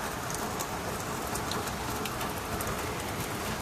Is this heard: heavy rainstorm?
yes